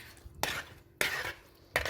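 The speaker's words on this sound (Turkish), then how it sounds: "Patatesleri de bu sosa dahil ederek karıştırıyoruz." Three short bursts of scraping and clinking as a utensil stirs potatoes, chicken and peppers into sauce in a pan, separated by quieter gaps; close and moderately loud.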